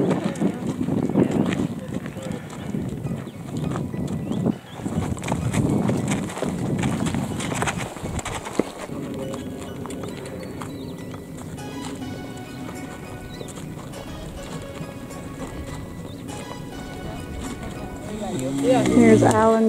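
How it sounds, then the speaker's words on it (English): A horse is ridden outdoors on a tour in Israel, with rhythmic hoofbeats under near, continuous cheerful talk from several people, the voices dominating the scene. "riding my horse"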